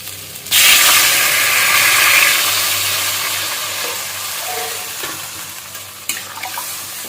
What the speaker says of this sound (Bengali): তো দেখো মশলাটা হয়ে গেছে এখন এর মধ্যে আমি দিয়ে দেবো পরিমাণ মতো জল